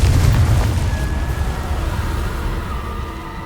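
Confringo fire blast spell cast in the Hogwarts Legacy video game: a loud, deep booming burst up front that rumbles and slowly fades over a few seconds, with no voices.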